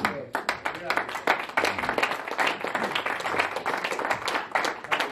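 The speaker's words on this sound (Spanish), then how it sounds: "Denle un aplauso fuerte a Cristo." A church congregation breaks into loud, dense applause with sharp overlapping claps, a fairly close and lively burst with some voices mixed in.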